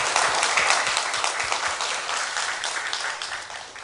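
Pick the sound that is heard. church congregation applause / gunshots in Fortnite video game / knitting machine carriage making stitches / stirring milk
church congregation applause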